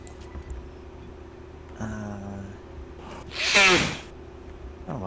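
A single sneeze bursts out mid-clip, sharp and fairly close, over a low steady hum and faint game ambience in a messed-up spaceship from System Shock 2.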